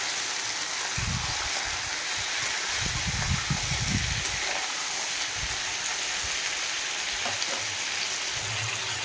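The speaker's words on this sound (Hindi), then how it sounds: "तेल गरम होतिबा तेल रे कंकड़ा पकेकी कंकड़ा को भलो भाबे कषि दबा।" Crab fries in hot mustard oil in a wok with a loud, constant sizzle, broken by low scraping and stirring bursts as the pieces are turned, and no talking.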